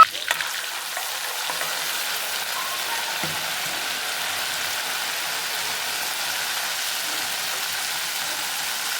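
A pav bhaji tempering fries in a pan with a continuous, even, close-up sizzle and crackle, like light rain on a hot surface, and no talk over it.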